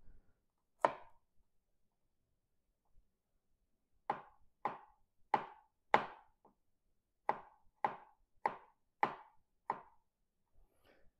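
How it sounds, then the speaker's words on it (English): A knife chopping ingredients thin on a cutting board for homemade chili oil: one sharp chop, a pause, then a quick run of about ten crisp, evenly spaced chops, close and clear against near silence. "And we're just cutting everything thin."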